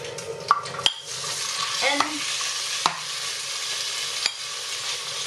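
Pork belly fries in oil in a pan, a steady close sizzle broken by a few sharp clinks and scrapes of a utensil stirring, with no voices.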